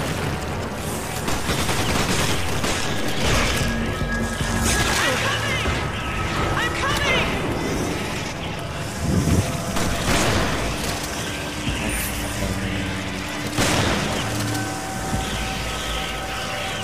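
Gunfire and mechanical weapon noises from the video game Resident Evil 5, with rapid bursts and clattering mixed into dense game sound and a steady music bed across the whole stretch, while people talk over it.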